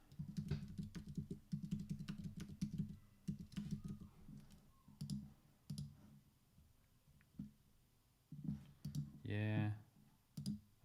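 Typing a password on a computer keyboard to set up a MetaMask wallet: bursts of quick, close key clicks with pauses between them, and a short voice sound near the end.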